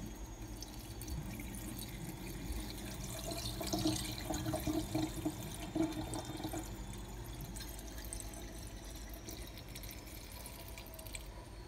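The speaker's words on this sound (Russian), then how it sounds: "Гречку необходимо промыть. Промываем третий раз." Tap water runs steadily into a bowl as buckwheat is rinsed in a kitchen, a soft continuous splashing with occasional drips and light stirring of the grain.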